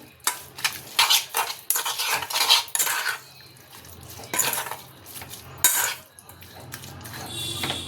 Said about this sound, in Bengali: এবার এটাকে আমি এই যে ভালো করে মাখাচ্ছি।